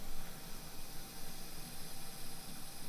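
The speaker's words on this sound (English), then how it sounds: "the sizzling of the extra water or whatever from when we were washing it" Leftover wash water sizzles on a heating Power Smokeless Grill, a steady soft hiss that holds close and unbroken throughout.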